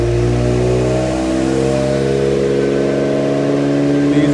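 A Suzuki Cappuccino engine revs hard in third gear on a dyno, a loud, steady, rising drone with strong harmonics that climbs smoothly and continuously throughout.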